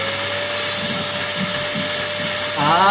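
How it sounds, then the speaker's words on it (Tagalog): A mini vacuum cleaner runs in a steady, loud, close whine with a constant high motor tone, the pitch shifting slightly near the end. "So, papress na lang po ng vacuum."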